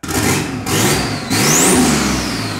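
A turbocharged, all-wheel-drive Chevrolet S10 truck engine revs hard and loud, with a rising turbo whistle climbing above the roar before it settles back to a steady high drone.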